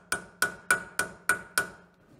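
A rounded, beveled punch is hammered while working on the brakes of a 1968 Ford Bumpside truck. Six evenly spaced, sharp metallic strikes ring briefly, close and loud, with no talking.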